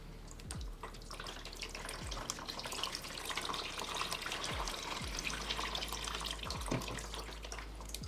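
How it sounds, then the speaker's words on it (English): Water is poured over a potted corm plant in soil just fed with fertilizer. It gives a steady, soft trickle and splash at close range with a few low thumps. "Just gonna water over this one over here."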